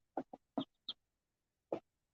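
Chickens on a small urban homestead flock of hens and roosters give a few short clucks in quick bursts, then one more after a pause, fairly faint with no talking.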